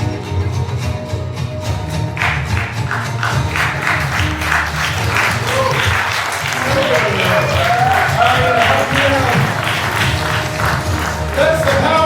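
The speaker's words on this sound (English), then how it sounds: "Give yourselves a round of applause." A large audience at a comedy mentalist show breaks into loud, sustained clapping that builds and continues, with some crowd noise and voices mixed underneath.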